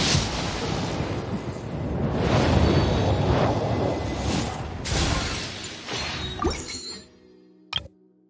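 A loud, shimmering Genshin Impact wish animation effect rises through a crash-like burst, then fades with a few bright chimes and a final sharp sparkle near the end.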